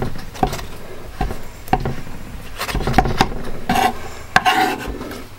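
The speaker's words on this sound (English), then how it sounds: "Then you can trim the edges." A knife trims the pastry edges of a chicken, bacon and leek pie, giving a series of short scraping and tapping strokes against the dish, close up and steady, with no talking.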